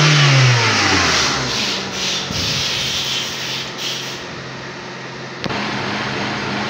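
A Honda Civic Ferio engine idles steadily just after its idle air control valve has been cleaned, a rough continuous hum with a small click partway through, close and moderately loud.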